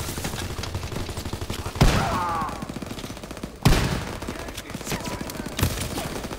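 Dense gunfire from the Call of Duty: WW2 video game, with rapid rattling bursts and a few heavier, louder blasts standing out. The shooting continues steadily, with quiet talk beneath it.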